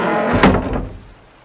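A door shuts with a single solid thunk in the middle, preceded and followed by a low rumbling ambience that fades away.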